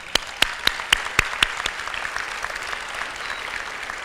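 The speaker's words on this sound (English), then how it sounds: "I would ask the members of the class of 2014 to join me in applauding you" Commencement audience applauding faculty and staff, starting with a few sharp distinct claps that build into steady, moderately distant applause filling the hall.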